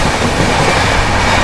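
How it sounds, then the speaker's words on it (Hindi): The Gatiman Express, train 12050 from Delhi to Jhansi, runs at high speed while overtaking the Samta Express, giving a loud, close, continuous rush of wheels and rail noise with no voices. "अपनी गतिमान एक्सप्रेस स्किप करने जा रही है मोरैना रेलवे स्टेशन को, और ओवरटेक करेंगे हम लोग हजरत निजामुद्दीन विशाखापट्टनम समता एक्सप्रेस को"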